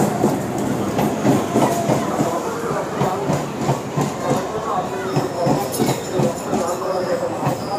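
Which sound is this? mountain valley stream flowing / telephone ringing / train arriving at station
train arriving at station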